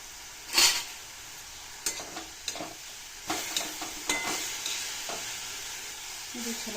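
Carrot halwa simmering in milk in a pan, stirred with a spoon in a series of scraping, clinking strokes over a steady soft sizzle, close and fairly quiet.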